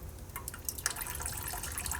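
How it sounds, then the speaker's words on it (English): Cold tap water trickling into a bowl, a soft steady splashing and dripping with irregular small splats, close and fairly quiet with no talk. "So we're just gonna fill that bowl with cold running water. I like to fill it to the top, and then I lower it to a gentle trickle."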